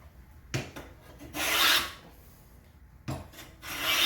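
Hand plane strokes across padauk wood during a try square build, a few sharp rasping swipes with pauses between, close and clear with no talk.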